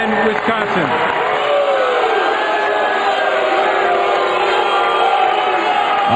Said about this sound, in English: some cheers here at the Verizon Wireless West Club. Some booing. As you can tell, mixed reaction.